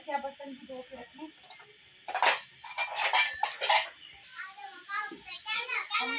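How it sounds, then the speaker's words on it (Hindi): Pots and dishes are set down in a home kitchen with a burst of clattering metal clinks and knocks in the middle, and people talk before and after. "ये बर्तन जो है ना यहाँ पे रखते हैं"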